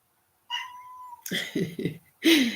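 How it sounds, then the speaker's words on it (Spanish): A female kitten meows several times close by, first a long high drawn-out cry, then a quick run of short chirping meows and a final louder, falling meow. "Mi gatita se llama Umi"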